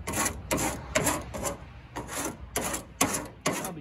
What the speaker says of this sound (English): Just a little scrape, and you can see all the piles of adhesive coming up here.